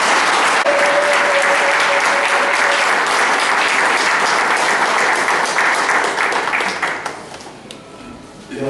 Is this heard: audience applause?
yes